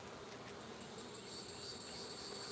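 Honeybees hum steadily during an inspection of a Russian hive, a faint, even, continuous buzz of many insects with no talking.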